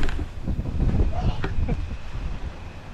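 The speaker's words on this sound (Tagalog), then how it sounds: "Lakas ng hangin." Strong wind gusts outdoors just before rain under a darkening sky, a steady, rough, broadband rush buffeting the microphone for the whole stretch.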